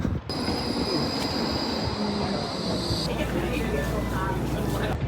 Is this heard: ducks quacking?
no